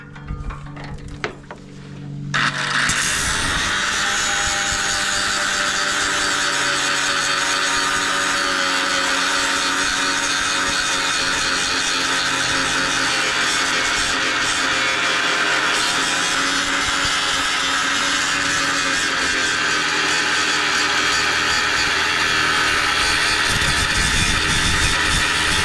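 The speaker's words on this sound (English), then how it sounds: "And grind that weld off." An angle grinder grinds a weld off a metal implement attachment, a loud steady whine that runs almost without a break after a short quieter start.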